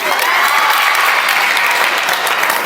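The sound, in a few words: audience applause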